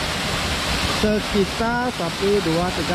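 The Tibu Sampi waterfall, a low fall near Gunung Salak village in Tabanan, Bali, makes a steady broadband rush in the background while someone speaks over it in the foreground.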